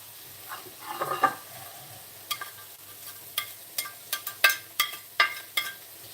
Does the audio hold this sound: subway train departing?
no